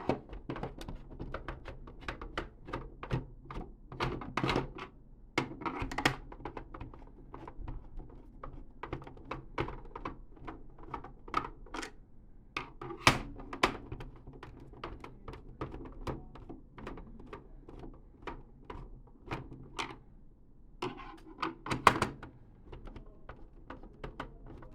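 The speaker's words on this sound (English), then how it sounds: "take out the first 6 screws on the back. Take a Phillips screwdriver" A Phillips screwdriver takes the back screws out of a Nintendo NES console: soft, close clicks, taps and plastic thunks come in irregular clusters, with the case being handled throughout and no talk.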